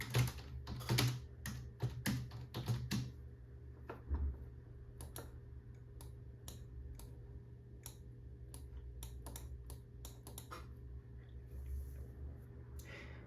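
Fast, irregular clicking of a computer keyboard being typed on in a quiet room, with bursts of rapid keystrokes and short pauses, steady low hum underneath and no talking.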